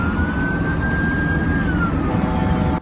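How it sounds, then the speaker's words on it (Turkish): Ambulance siren on the Manavgat–Antalya D400 highway, a loud steady wailing tone that slowly falls in pitch, heard up close over a continuous roar of road traffic. "Bebeğin bulunduğu ambulans Manavgat-Antalya D400 karayolunda siren çalarak ilerlerken"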